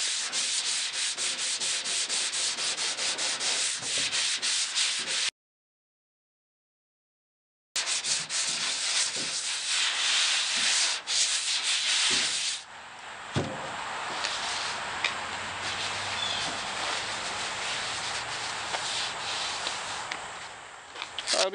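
Hand sanding over guide coat on a replacement door skin for a 1967 Ford Mustang, a steady rhythmic scrubbing of abrasive strokes, close and fairly loud, with a short silent gap before the passes resume and gradually soften.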